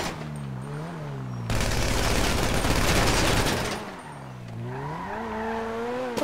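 Burst of rapid automatic gunfire from a GTA V Online drive-by shooting, a loud sustained volley lasting a couple of seconds between stretches of engine drone and overlapping game sound.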